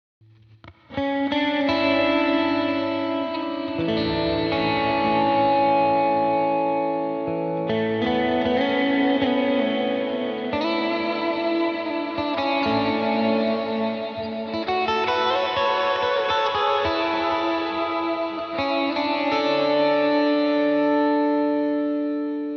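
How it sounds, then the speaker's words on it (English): Electric guitar through a Cloudburst ambient reverb pedal turned up, with slow chords that swell and wash into each other over a long stretch. The sound is close and steady, with no voices. "I'm going to dial up the Cloudburst just a little bit more."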